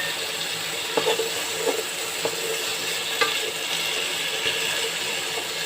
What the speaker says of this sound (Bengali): আমি আলুটাও ঢেলে দিচ্ছি।